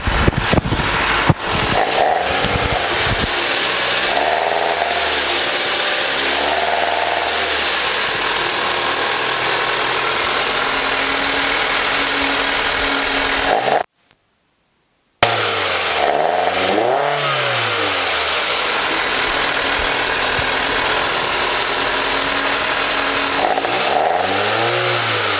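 A manual-swapped Nissan Figaro four-cylinder with an aftermarket exhaust revs hard again and again, loud rising and falling snarls over a steady idle, broken by one brief silent gap.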